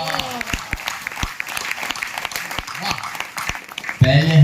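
Scattered claps break out from the audience at a Hindi comic poetry recital, sparse sharp hand slaps sounding under and between a man's speech, with his voice rising louder at the end.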